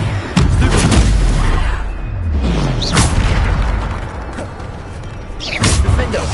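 Bombarda spell blasts in a Hogwarts Legacy fight, heavy booming explosions with rumbling low thuds and whooshing magic effects, loud and close, recurring every couple of seconds.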